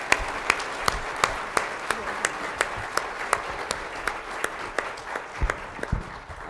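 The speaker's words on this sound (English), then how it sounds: "Let's have a round of applause for our panelists." An audience applauds panelists at a workforce development and education event, a steady dense patter of clapping with a few sharper nearby claps standing out, lasting throughout without talk.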